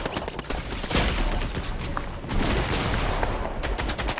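Rapid gunfire in Fortnite, dense bursts of shots crackling almost continuously, loud and close.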